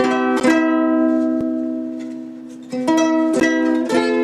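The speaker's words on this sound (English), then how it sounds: "That's more of the ukulele sound." Ovation UCS10/5SE electric ukulele chords ring out through a Fishman amp, a strum that sustains and fades, then a few more rhythmic strums, loud and close.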